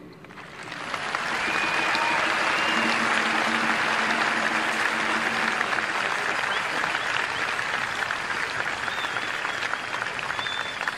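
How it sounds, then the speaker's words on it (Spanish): Sustained applause from a large audience at a Neocatecumenal Way gathering in Lisbon, swelling after a second and continuing loud and dense to the end. "Podéis aplaudir."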